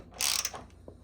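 A ratchet tightens a bolt on the bash bar of an FRS drift car, a brief close burst of clicking at moderate loudness.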